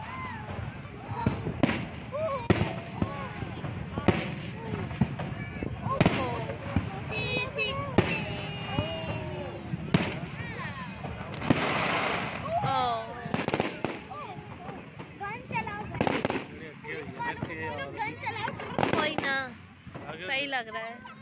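Fireworks bursting at an outdoor Independence Day show in the USA, a steady run of booms and crackles over a long stretch, with people talking and exclaiming throughout.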